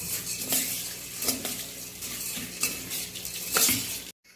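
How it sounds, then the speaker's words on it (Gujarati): A spoon mixes bhel with rock salt and chili powder in a bowl: repeated close scraping stirs and light clinks, with no talking. "હવે એને આપણે મિક્સ કરી લઈશું."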